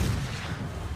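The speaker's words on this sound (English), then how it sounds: "But you see how this gun sounds very similar to the T-72 and the Chieftain gun?" A tank cannon booms in War Thunder, a single heavy, sustained low roar of gunfire filling the whole moment, loud and close with no voices.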